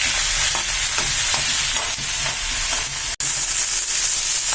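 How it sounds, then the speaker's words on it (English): Chopped tomatoes frying for onion tomato chutney, a loud continuous sizzle with faint rhythmic stirring scrapes and one brief dropout partway through, no talking. "Now keep it for another 10 minutes so that it gets fried properly."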